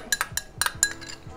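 Metal spoon clinking against a cooking pot while adding garlic-ginger paste for Rajasthani chicken pulao, several sharp, bright taps in quick irregular succession, close and clear.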